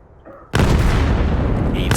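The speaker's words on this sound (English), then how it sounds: "Nades coming in onto Sayo." Grenade explosions in the shooter game Vail burst in suddenly with a heavy boom, followed by a dense, loud rumble of blasts and gunfire that fills the remaining moments, briefly preceded by quiet game sounds.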